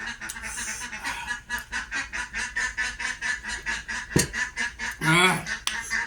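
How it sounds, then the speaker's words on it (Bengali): A group of hungry ducks quacks steadily and insistently nearby, the calls overlapping in a fast, repeating rhythm, with one louder burst of honking near the end. "হাঁসগুলো পাক পাক করতেছে খুব খিদা পাইছে"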